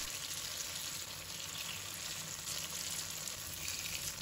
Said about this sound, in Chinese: 豆腐煎制定型之后，再把豆腐翻过来煎另一面